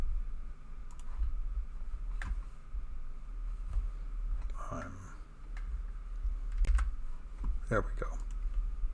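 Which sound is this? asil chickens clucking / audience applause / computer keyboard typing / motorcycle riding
computer keyboard typing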